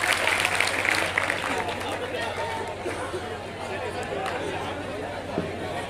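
Applause from an audience at an all-India poets' gathering (kavi sammelan) at an inter college in Benigani, Hardoi, a steady crowd clapping with murmuring voices mixed in, stronger at first then settling to an even wash.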